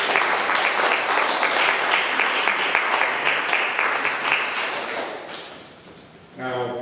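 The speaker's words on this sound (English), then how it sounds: "Let's have an applause for him." An audience at a celebration of life gives a man a round of applause, a loud, full burst of clapping that gradually thins out and fades, then a voice begins speaking.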